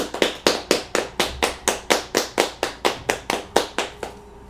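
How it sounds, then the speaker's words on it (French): Hands clap loudly and evenly, about sixteen sharp, close claps in a brisk steady rhythm, then stop, leaving a faint room hum. "On applaudit fort!"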